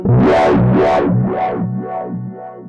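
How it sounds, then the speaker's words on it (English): An Endorphin.es Ghost pedal runs spatial effects into a filter and then distortion, giving a loud, gritty synth-like tone that sweeps up and down in repeated rising and falling swells, fading gradually over a few cycles. "spatial effects first, then filter, then distortion"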